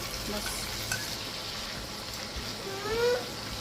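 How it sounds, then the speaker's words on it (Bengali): Chicken pieces frying in butter in a pan while making a baby's pasta dish give a steady, close sizzle with light stirring scrapes throughout. "এই যে চিকেনটা দিয়ে দিচ্ছি এর ভেতরে"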